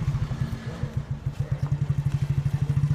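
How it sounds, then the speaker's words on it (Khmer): A motorcycle engine chugs in a fast, regular low pulse close by, the beats growing steadier and slightly louder as it runs, with no talking. "យើងឡើងម៉ូតូទៅមើល"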